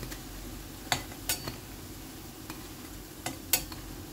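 Banana flower fritters fry in hot oil with a soft continuous sizzle, punctuated by a few sharp metallic clinks of a utensil against the pan, close and fairly quiet.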